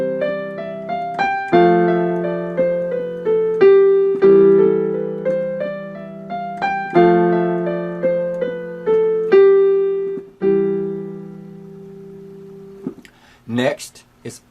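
A G Mixolydian scale is played note by note on guitar, clear plucked tones stepping up and back down in a steady rhythm, with a short burst of other sound at the very end.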